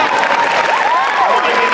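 A Comic Con panel audience at New York Comic Con applauds in a loud, steady burst of clapping mixed with scattered cheers and whoops.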